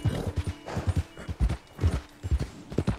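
Horse hooves clip-clop steadily along in the Red Dead Online video game, a quick, even rhythm of soft thuds in pairs and triplets, moderately close with a faint background hum.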